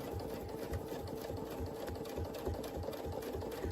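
Close and steady, a sewing machine stitches a butterfly quilt design guided by a ruler, its rapid even pulse running throughout with no voices.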